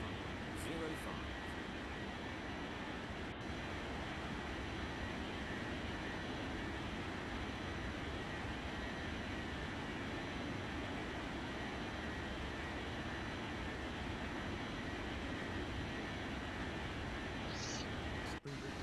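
Airliner takeoff roll in an air traffic control video game, a steady loud broadband engine roar that holds through the whole stretch with little change, while radio-style voices talk over it.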